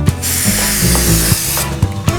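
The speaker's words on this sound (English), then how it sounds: "we're going to spray this vellum, the spray adhesive" A steady, loud hiss of an aerosol spray adhesive being sprayed onto vellum, running continuously, with a few faint clicks and knocks underneath.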